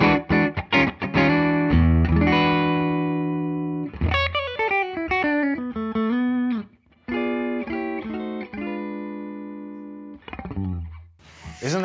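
A Fender American Pro II electric guitar plays chords and a quick descending run with a thick, distorted series-wired humbucker tone, notes sustaining between pauses, ending with a scratchy strum.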